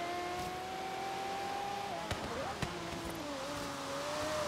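A Bugatti Veyron in the racing game Forza Horizon 3 accelerating at full throttle, a steady high engine tone that dips briefly, with two sharp thumps, then climbs again.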